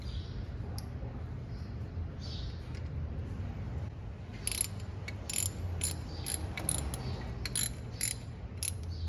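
A wrench ratchets on the water pump of a 2003 Chevy Trailblazer with bursts of quick metallic clicking over a low steady hum, close and fairly loud in the second half.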